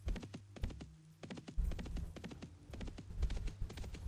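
Horse hooves clip-clopping in the online game Dark Age of Camelot: a steady, rhythmic run of hollow hoof clops, close and even, continuing throughout with a low background hum.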